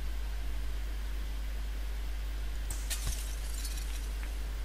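Muffled glass shattering in the stealth game Gunpoint, a short sharp crash with a brief tinkle of fragments over steady background hiss, heard alone.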